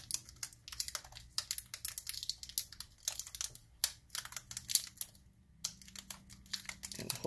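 Adhesive strip being peeled back off a part of a Panasonic Toughbook CF-54 laptop gives a steady run of close, crackly, ticking pulls and sticky tearing sounds.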